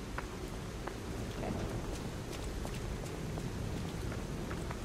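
Steady rain in the video game Lies of P, a soft continuous hiss of falling water with scattered light drip ticks, fairly even and unbroken throughout, no voices.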